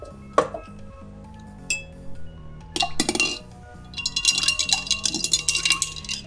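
A spoon clinks repeatedly against a glass while a mixed drink of melon liqueur and lemon-lime soda is stirred, bright ringing taps in irregular bursts, close and fairly loud, with no talking.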